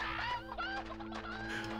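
A rooster in the video game Hand Simulator Horror clucks in short, stuttering bursts over a steady electronic hum and background music.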